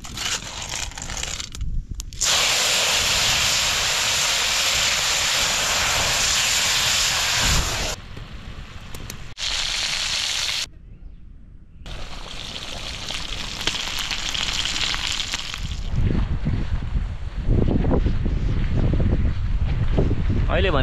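Strong wind blows outdoors in open green countryside, a loud, steady roar of gusts buffeting the microphone, broken by a few brief lulls and sudden drops before surging again.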